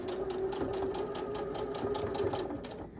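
Sewing machine stitching through quilt fabric for a pinwheel block, a steady continuous mechanical hum with a rapid needle rhythm, running close and alone the whole time before easing off at the end.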